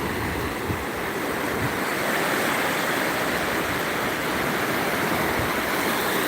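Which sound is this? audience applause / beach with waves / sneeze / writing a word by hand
beach with waves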